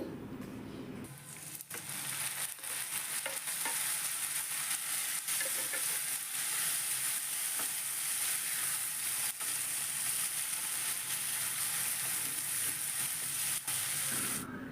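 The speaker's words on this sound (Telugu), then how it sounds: "ఉల్లిపాయ ముక్కలు ఇలా ఫ్రై అయిపోయిన తర్వాత ఇందులోకి రెండు పెద్ద సైజు టమాటాలని చిన్న చిన్న ముక్కల కింద కట్ చేసుకొని వేసుకోవాలి" Two large tomatoes, chopped small, frying with onions in a pan for a tomato and okra curry: a loud, continuous close sizzle with a few faint stirring knocks, steady throughout.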